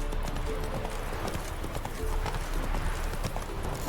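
The horse Roach's hooves clip-clop steadily in a video game, a continuous rhythmic trot under faint background ambience, with a hint of a whinny.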